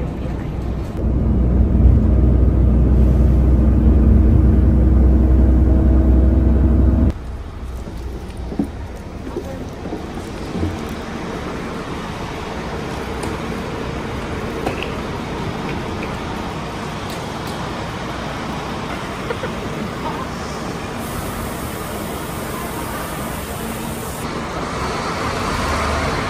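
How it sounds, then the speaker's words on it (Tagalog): Riding a bus toward Taoyuan Airport Terminal 2 in Taiwan, a loud engine rumble gives way to a steady road roar and cabin hum that carries on throughout. "So, ayun guys, nakasakay na po kami ng bus."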